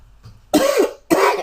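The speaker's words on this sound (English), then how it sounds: "I feel a cough coming on." A person gives two sharp, close coughs in quick succession, loud and clear against a quiet background.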